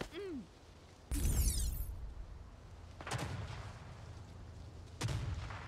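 Sniper rifle shots in the Rogue Company shooter game, three sharp cracks spaced about two seconds apart, each trailing into a booming echo, heard at a moderate distance with quiet gaps between.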